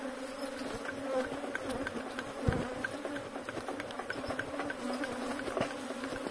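Honeybees buzz steadily and densely around opened beehives during a honey harvest with smoke in use, a close, continuous swarm drone with occasional soft knocks of handling.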